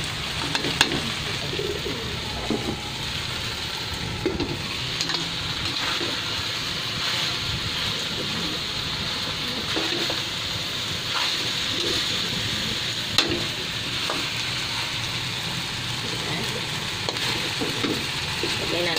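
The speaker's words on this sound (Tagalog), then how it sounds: "Medyo pakuluan natin ng konti." Soup with corn, malunggay and chicken bubbles and sizzles in a pot, a busy continuous crackle with occasional clinks, with birds calling faintly in the background.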